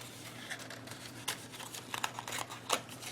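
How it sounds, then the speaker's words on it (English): Designer paper box tabs being folded in and creased by hand, producing soft, close crinkles and brief papery rustles in scattered bursts over a low steady hum. "Take your little tabs, fold it in, and crease up to the top."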